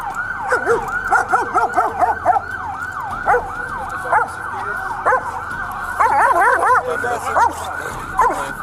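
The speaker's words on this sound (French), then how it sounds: "Le berger allemand, toujours collé à son maître, ne cesse d'aboyer bruyamment en voyant la police avancer." A German shepherd barks loudly and repeatedly at approaching police, with whimpers and yips mixed in, while a siren wails and people talk in the background.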